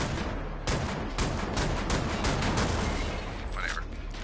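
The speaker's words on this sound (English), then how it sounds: "It's a shotgun." Shotgun blasts boom repeatedly amid dense, chaotic combat noise in the video game Wolfenstein, loud and continuous, with a voice talking over the gunfire.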